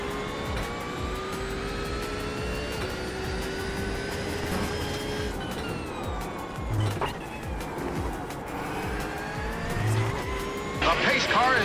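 In a racing video game, a pace car skids out of control, with engine roar and tire squeal rising over steady game engine noise and bursts of skidding near the end.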